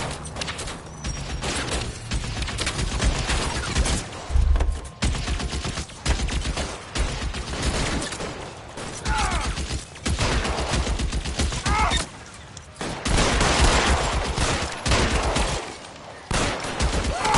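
Rapid bursts of gunfire in the video game L.A. Noire, dense overlapping shots and machine-gun volleys in loud clusters with brief lulls, under occasional voices.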